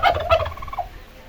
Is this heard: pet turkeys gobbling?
yes